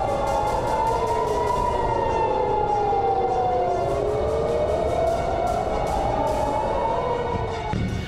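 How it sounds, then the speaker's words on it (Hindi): Several air raid sirens wail together over Israel during an Iranian missile attack, their tones rising and falling in long overlapping sweeps, loud and continuous throughout. "फिजा में गूंजती सायरनों की आवाज"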